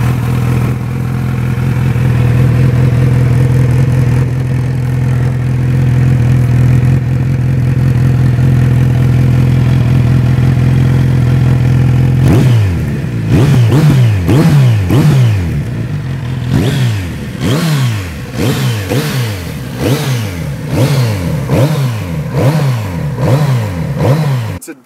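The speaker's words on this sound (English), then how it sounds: "Detuned Z900 engine, but when I say detuned, it's bloody quick." Kawasaki Z900RS motorcycle, a 2018 retro Z900 replica with a detuned Z900 engine, idles steadily up close and then revs repeatedly in sharp rising-and-falling bursts, loud and alone.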